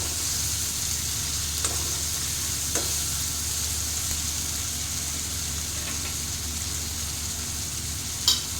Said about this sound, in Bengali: তো এইভাবে ভাজা হচ্ছে হোক, টমেটোগুলো বেশ একটু গলে গলে যাবে।